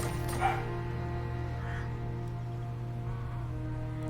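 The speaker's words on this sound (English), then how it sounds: "You can even tell she was barking whilst running through the house" A dog barks while running through a house: a couple of short, somewhat distant barks rise briefly over a steady background hum.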